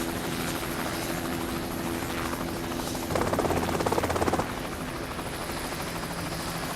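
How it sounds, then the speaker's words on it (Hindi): A helicopter flies nearby with a continuous, loud rotor drone that swells and grows stronger midway before settling back to a steady roar. "हेलीकॉप्टर से डर लग रहा है क्या?"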